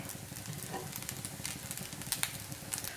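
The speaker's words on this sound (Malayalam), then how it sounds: "അതിനുശേഷം നമുക്ക് വീണ്ടും ഒന്ന് ഇതുപോലെ ഒന്ന് മിക്സ് ചെയ്ത് കൊടുക്കാം" Vegetable fried rice with spring onion leaves is stirred in a hot pan, giving a steady low sizzle with soft scraping strokes and small clicks close by.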